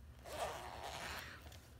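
A zipper on the back pocket of an A5 planner binder in grey croco leather is pulled open in one smooth, close, quiet run lasting under two seconds.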